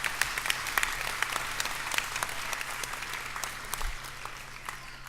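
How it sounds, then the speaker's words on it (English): Steady applause from a crowd of graduates at a 2017 graduation ceremony, dense and sustained clapping throughout with a low hum beneath and no talking. "give yourself an applause."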